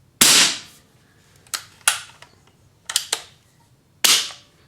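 Pumped pneumatic air rifle, a rebuilt Streak, fired in a sharp loud crack, followed by several softer clicks and snaps of the action spaced over a few seconds, close up with no talking.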